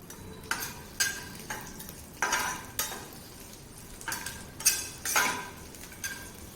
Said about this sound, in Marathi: मिरच्या भाजत आलेल्या आहेत त्यामध्ये आपण लसूण पण टाकून भाजून घेऊया